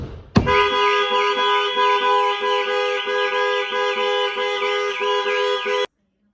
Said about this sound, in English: I'll now demonstrate how the full alarm system will go off